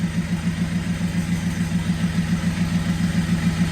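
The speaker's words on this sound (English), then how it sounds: "I finally got her idling" A Subaru engine swapped into a VW Beetle idles steadily, a close, even low throb with a regular pulsing rhythm and no voices.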